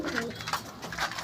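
Pigeons coo softly in a loft among nesting squabs, a few low murmuring calls repeating close by over a steady airy background.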